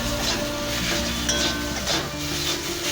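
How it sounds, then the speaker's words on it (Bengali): Spice masala with turmeric and cumin powder frying and being stirred in a little oil in a pan for palak chicken, a steady close sizzle with scraping stir strokes throughout, no talking. "মশলাটা কষে নেব।"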